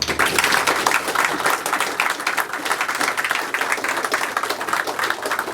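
A crowd at a Small Craft Mechanics course graduation claps steadily for the graduates, a dense, even patter of many hands held at a constant level throughout.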